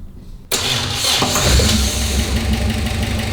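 A 1955 Austin Healey engine cranked on the starter, catching and settling into a rough, loud, close idle after a brief quiet moment.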